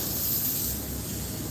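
Water sprayed hard onto the ground outdoors makes a loud, continuous hiss with a bright, airy edge, steady from start to finish and close by.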